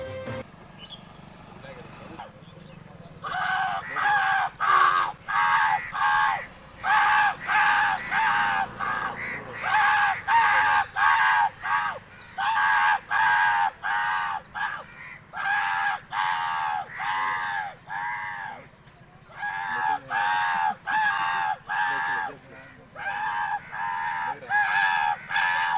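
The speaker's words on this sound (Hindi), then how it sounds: "श्री बेहरा के साथ साथ आसपास के एकत्रित कौवे ने भी अपनी आवाज में शोर मचाने लगे।" A gathered flock of crows caws loudly and persistently, harsh overlapping calls in rapid bursts close by, with faint speech underneath.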